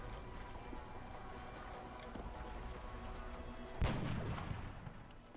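Gunfire in the turn-based game XCOM Long War: one sudden, fairly loud shot cuts through a steady low rumbling background and rings out briefly before fading.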